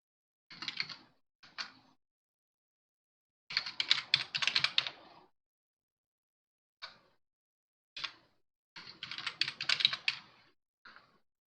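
Someone types on a computer keyboard to rename a folder on Windows, with quick clustered keystrokes in several bursts and gaps of silence between them.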